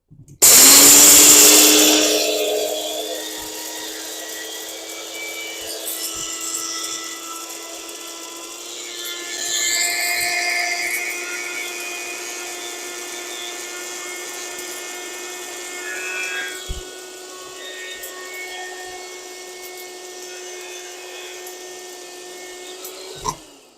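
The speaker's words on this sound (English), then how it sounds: "That's not quite at the texture that I wanted, so I'm going to grind it a little bit more" An electric grinder pulverizes dry hair mask ingredients into fine powder, a loud steady high-pitched whine that bursts in at full force, eases slightly and holds for over twenty seconds with no talking.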